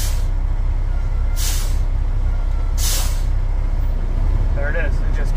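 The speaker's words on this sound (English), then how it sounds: "Now we're going to pump the brakes until it drops below 100 PSI." A truck's air brakes are pumped, sending two sharp bursts of released air hissing over a loud, constant engine idle, each lasting about half a second with a pause between.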